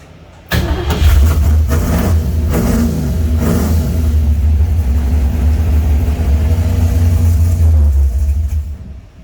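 A 1967 Mercury Cougar XR7 engine that still needs choke adjustment cranks and catches, then runs with a loud, deep rumble and a few sharp revs before dying away at the end.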